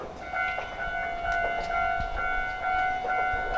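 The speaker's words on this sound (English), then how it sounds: "It's a bit of an old style train" Old-style local train pulling into a small rural station in Wakayama, a steady rumbling hum with a sustained whine and faint rhythmic clatter, fairly loud and close, no talking.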